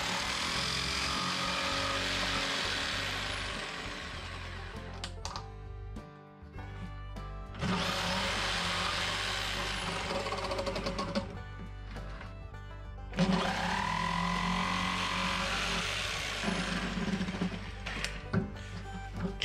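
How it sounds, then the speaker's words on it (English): A jigsaw cuts holes in a plastic feeder bucket for a henhouse. Three loud bursts of buzzing, rasping cutting are separated by short pauses while the blade stops, with no talk over them. "I'm just going to use a jigsaw to finish these holes off."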